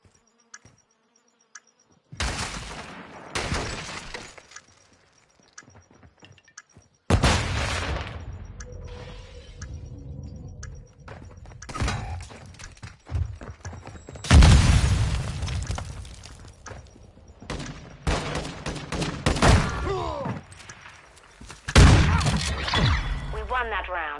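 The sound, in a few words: bomb detonation in Modern Warfare 2 video game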